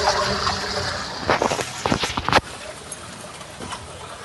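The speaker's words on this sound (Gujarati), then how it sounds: "સીધું જ પાણી અંદર જઈ શકે" Rainwater rushing and splashing into a borewell recharge system at a housing society in Gujarat, a steady wash of flowing water with a louder, choppier surge partway through before settling back.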